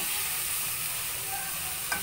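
Potatoes with tomato puree and spices fry for dum aloo, a close, continuous sizzle with faint stirring and a single soft clink near the end, and no speech.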